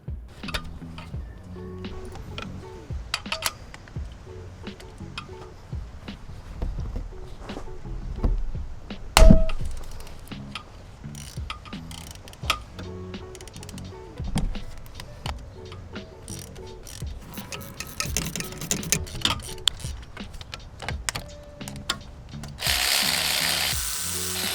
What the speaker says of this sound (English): I'm going to remove the bolt at the bottom first.